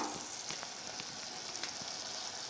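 Ginger garlic paste fries with softened tomatoes and onions in a pan, giving a faint, even sizzle with a few soft stirring taps, heard alone.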